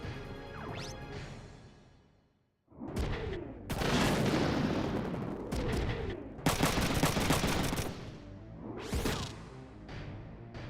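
Machine-gun fire from armed mechs in the tactical RPG Front Mission 3: loud, dense bursts of rattling gunfire with booming impacts, separated by short pauses after a brief silence, with no voices.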